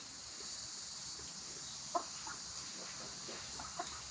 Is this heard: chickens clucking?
yes